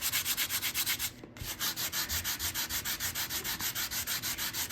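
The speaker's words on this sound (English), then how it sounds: "the thicker I go, the more I have to sand them out" Steady rhythmic sanding of plaster, a quick back-and-forth rasp repeating evenly and close up, with one brief pause partway through.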